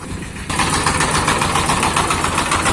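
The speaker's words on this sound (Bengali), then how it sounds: "এখানে মেশিন চলছে আমি একটু মেশিনগুলোও দেখাই" Heavy engine machinery running in the engine room of a brick kiln in Rajshahi, a loud, steady, dense mechanical roar that swells up sharply after a half-second and keeps droning evenly, close by.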